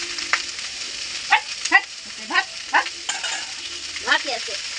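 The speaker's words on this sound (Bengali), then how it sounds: "চলো ভাজাটা হতে থাকুক" Food frying in a pan over a home stove, a continuous sizzle broken by several stirring scrapes at an irregular rhythm, close and moderately loud.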